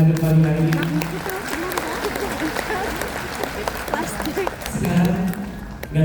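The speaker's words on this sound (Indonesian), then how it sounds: "Sekali lagi kita berikan aplaus tepuk tangan untuk kita semua yang hadir pagi hari ini." A morning religious gathering of a Hong Kong audience breaks into applause, a dense crackle of clapping filling the middle of the clip between stretches of someone speaking over a microphone at the start and end.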